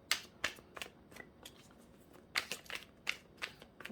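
Tarot cards are shuffled by hand in quiet, close, crisp riffling bursts that repeat in an uneven rhythm over a few seconds.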